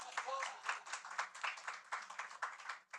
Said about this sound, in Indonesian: sekali lagi keras tepuk tangannya